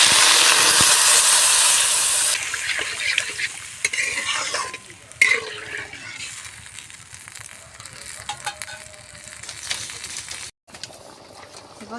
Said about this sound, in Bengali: এবার জলটা ফুটে উঠেছে